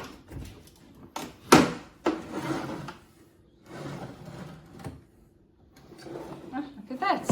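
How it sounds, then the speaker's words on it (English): A kitchen cabinet drawer slides open and shut several times with wooden knocks, scrapes and rattles, close by, amid irregular handling noises. "We're now just going to check this drawer."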